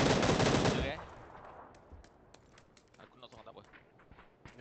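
Bursts of rapid automatic gunfire crack loudly in a video game for about a second, then fade to scattered distant shots and footsteps under players' chatter.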